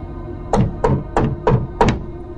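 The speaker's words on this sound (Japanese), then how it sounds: "誰かがドアをノックしてたから、" Five firm knocks on a door, evenly spaced and close, each a sharp thud standing out clearly against a quiet background.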